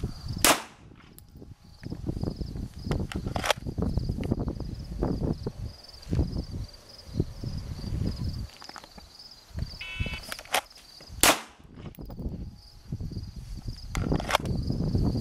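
Pistol shots crack out at an outdoor shooting range, a series of sharp, spaced reports over background insect chirping and light shuffling, with a few louder close shots standing out.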